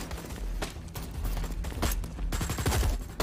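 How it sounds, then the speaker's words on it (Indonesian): Gunfire is exchanged between Indian and Pakistani soldiers in a battle, dense volleys of loud shots and rapid bursts crowding together over a rumbling background, with no clear speech. "Dengan ini baku tembak antara tentara India dengan pasukan tentara Pakistan tidak terhindarkan."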